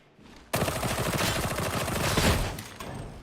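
Rapid bursts of gunfire from a weapon in Warhammer 40,000: Darktide, opening after brief quiet with a loud, sustained volley of overlapping shots for about three seconds.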